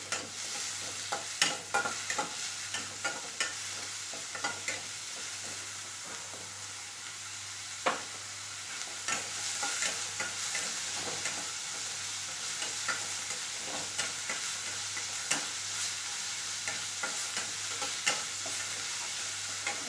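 Onions frying in oil in a pan, a steady soft sizzle with frequent scraping stirs and light clicks of the spoon throughout, close and fairly quiet.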